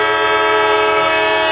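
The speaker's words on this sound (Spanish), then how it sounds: "otros también están manifestándose, como ven, con bocinazos, unos 200 camiones, como decía Miguel Álvarez." Truck horns blare in a long, loud, sustained chorus from a protest by around 200 truckers at a border crossing, steady tones with no talk over them.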